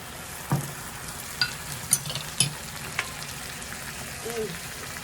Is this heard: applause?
no